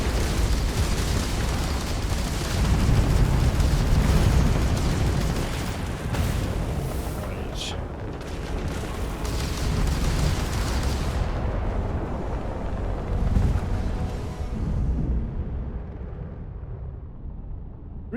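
A ship blown apart by weapons fire in Starfield: a long, roaring barrage of explosions and blasts with crackling bursts that rumbles loudly, then fades away toward silence at the end.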